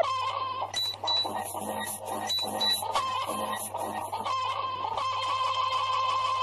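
Chicken clucks sound each time a character jumps in Growtopia, a series of short, bright game squawks over a low steady hum, closely spaced and fairly loud, with no voices.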